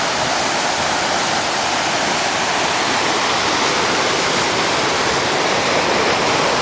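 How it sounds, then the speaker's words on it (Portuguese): Cachoeira do Porão waterfall near Carolina, Maranhão, roars as a steady, loud, broadband rush of falling water that fills the whole stretch with no break, heard from close beside the falls. "Estamos aqui, ó, do lado da cachoeira."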